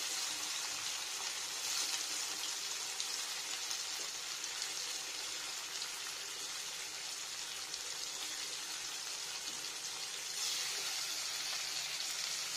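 Paneer pieces fry in a pan over low heat, giving a steady, even sizzle with no pauses and no voices.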